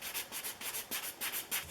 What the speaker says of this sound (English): I'm going to go over them lightly with my sanding sponge